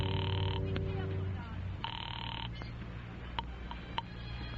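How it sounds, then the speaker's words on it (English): A telephone rings on an outgoing call in an old radio suspense drama, two distinct ring bursts separated by a pause over a low background hum. "I got the phone and called Fran's old number"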